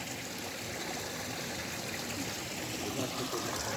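Water flowing steadily in a garden in Berlin, a faint continuous stream-like trickle and rush with no distinct breaks.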